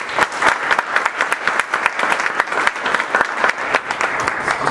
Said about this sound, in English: I want to just have a round of applause for Joel and ITAMCO